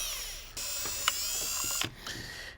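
Screws being backed out of the L bracket on a Garmin kayak trolling motor make close mechanical creaks and ratcheting clicks, with a few sharp metallic ticks across a steady tool whir.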